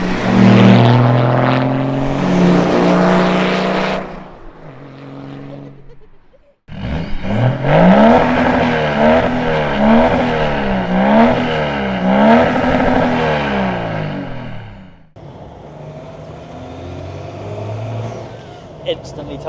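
Range Rover Classic with an M57 engine and a noisy gearbox driving along, a loud steady engine drone with rising and falling revs and whining gears, heard from inside the cabin with a pause in the middle.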